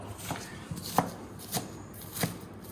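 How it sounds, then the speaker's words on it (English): Knife roughly chopping onion rings on a cutting board; four or five distinct, unhurried knocks spaced about half a second apart, close and fairly quiet. "we just need to roughly chop them up a little bit more"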